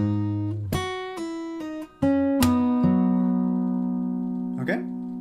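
An acoustic guitar plays a short passage of a song slowly, with a few separate plucked notes ringing out, then a louder strummed chord that sustains and decays, a soft tap near the end.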